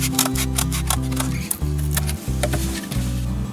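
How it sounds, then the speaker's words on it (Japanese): Scissors cut cardboard to make a template, with a quick run of crisp snips and crunches over a low, steady hum. "まず段ボールを切って型紙を作ります。"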